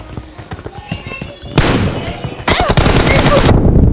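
Rapid bursts of automatic gunfire from the mobile battle royale game PUBG Mobile, loud and close, with dense strings of shots in the second half and a faint voice underneath.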